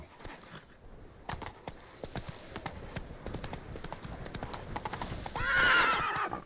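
Roach the horse galloping in The Witcher 3, steady rapid clip-clop hoofbeats close by, ending in a loud whinny near the end.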